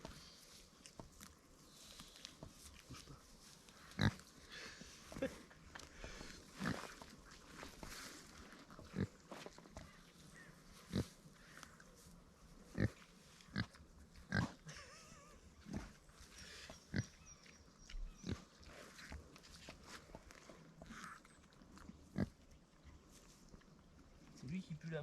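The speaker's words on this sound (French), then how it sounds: "C'est un cochon" A pig grunts again and again in short snorts at irregular intervals, up close over a low, steady background.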